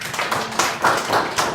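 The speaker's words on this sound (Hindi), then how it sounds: "ताली बजाओ।" Students in a school setting clap their hands together, a loud, close burst of rhythmic group clapping in several pulsing waves, with no one speaking.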